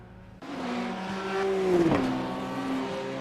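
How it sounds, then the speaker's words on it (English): Ferrari race car doing burnouts after the Bathurst 12 Hour race, a loud engine suddenly roaring in with revving that swells and dips, tire squeal mixed in, close and continuous without talk. "Wonky Wing Ferrari's doing burnouts"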